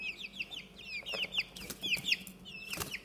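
Young chicks peep nearby, with a quick run of high, chirping calls repeating close together, some overlapping and a few slightly louder.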